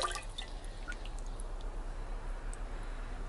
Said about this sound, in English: And I'm going to put a cup of water in the jar.